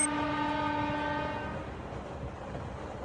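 A cartoon train runs along in the Doraemon animation, opening with a loud, steady horn blast in strong harmonic tones over continuous rumbling wheel and carriage noise. The horn fades out after about a second and a half and the running noise carries on alone.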